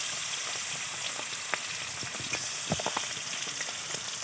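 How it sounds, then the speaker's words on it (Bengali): Fish sizzle and crackle in hot oil in a wok, a continuous frying hiss with scattered pops and spatters, close and alone. "এবার একটা করে মাছগুলো কড়াতে ছেড়ে দেবো"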